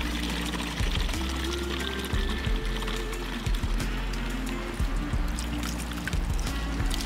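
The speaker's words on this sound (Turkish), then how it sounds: "kabımızı da su dolduracağız" Water from a one-litre supply pours continuously into a container for several seconds, a close, steady gurgling stream with bubbling and sloshing, ending up foamy.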